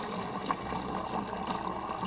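Water streams steadily into a glass in a home kitchen, a soft continuous pouring with no talking.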